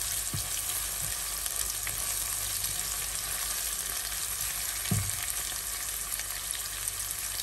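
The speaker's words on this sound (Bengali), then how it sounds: "লাল করে ভাজবো না, হালকা ভেজে নিব।" Onions and green chilies frying lightly in oil for spaghetti, a soft, even sizzle held steady throughout with a couple of faint low knocks, no speech.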